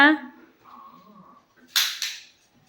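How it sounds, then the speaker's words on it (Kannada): A toy cap gun loaded with cap crackers fires two sharp, loud pops in quick succession during Diwali play, following a brief stretch of voices. "ನಮ್ಮ ಅಕ್ಕನ ಮಕ್ಕಳಿಬ್ಬರೂ ಗನ್ ತಗೊಂಡು ಕುಟ್ಟ ಪಟಾಕಿ ಹಾಕೊಂಡು ಟಪ ಟಪ ಅಂತ ಹೊಡ್ಕೊಂಡು ಸೌಂಡ್ ಮಾಡ್ತಾ ಇದ್ರು"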